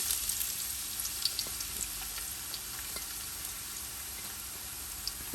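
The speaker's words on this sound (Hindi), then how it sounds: "बर्तन में हमने ऑयल डाल लिया 1 कप के बराबर और इसमें हम डालते हैं प्याज" Onions frying in about a cup of oil in a cooking pot, a steady close sizzle and crackle with faint scattered pops running evenly throughout, no talking.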